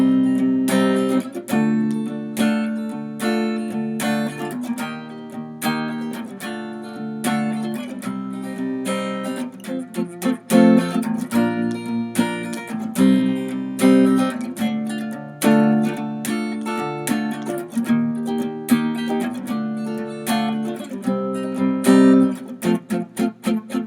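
Guitar plays a tune in a lilting 6/8 feel, grouped in threes: a steady run of picked notes and chords, moderately loud and close, with no talking.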